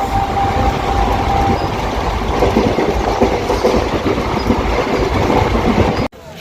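The 13141 Up Teesta Torsa Express from Sealdah to New Jalpaiguri runs on rails with a loud, continuous rumble and rattling clatter of wheels and carriages, heard from onboard and ending abruptly.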